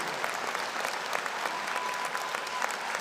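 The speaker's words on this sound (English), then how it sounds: "give a sincere round of applause to your unconditional supporters and lifelong companions outside of Franklin" A crowd applauds steadily at a university commencement ceremony for Franklin University Switzerland's 53rd graduation, with dense, even clapping filling the whole moment without letting up.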